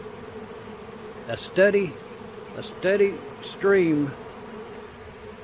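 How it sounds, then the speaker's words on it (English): A swarm of honey bees marches into a nuc box, giving a steady buzzing hum with a few louder swells, heard close while someone speaks briefly over it. "Quite interesting that those bees are actually marching into that box right there."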